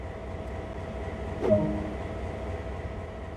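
Steady rumble of an idling diesel locomotive in the Train Sim World 2 game, with a brief swelling clank around midway as the cab is approached, otherwise a constant low mechanical hum throughout.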